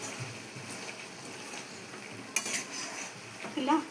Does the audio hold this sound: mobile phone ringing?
no